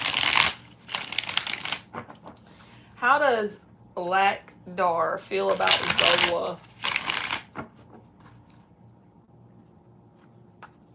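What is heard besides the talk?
shuffling tarot cards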